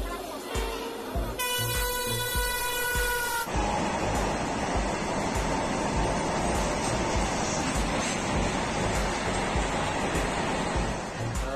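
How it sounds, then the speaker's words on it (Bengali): The Prashanti Express arrives at a station, opening with a loud two-second horn blast followed by a heavy, continuous rolling roar as the train runs close by. "দেখন্তু ফ্রেন্ড আমার এবে ট্রেন আসিগলা প্রশান্তি এক্সপ্রেস"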